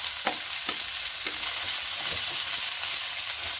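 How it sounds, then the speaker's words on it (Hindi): Onions frying with okra in a pan, a dense close sizzle with a few soft rhythmic spatula scrapes, no talking. "साथ साथ में प्याज डाल देंगे हम"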